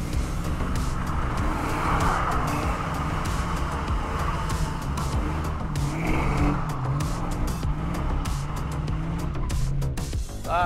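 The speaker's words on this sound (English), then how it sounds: "I might as well do a couple of donuts, only because I feel like that's how you send tires off in a blaze of glory" A boosted Ford with an AOD automatic transmission spins donuts in a parking lot, its engine roaring steadily while the tires squeal and skid continuously throughout.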